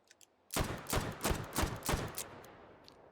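A shotgun loaded with tracer slug rounds fires in the H3VR virtual reality shooter, about six rapid sharp blasts in quick succession. The reports ring clearly with no talking.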